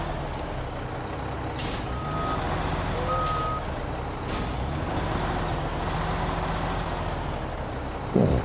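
Heavy truck in the SnowRunner game, a loud continuous engine drone with intermittent reversing beeps and sharp hissing bursts of air brakes, ending in a brief clunk.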